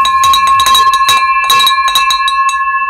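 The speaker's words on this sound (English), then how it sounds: "let's ring this victory bell" A handbell rings loudly and rapidly, clanging in quick irregular bursts with a sustained metallic tone hanging between strikes.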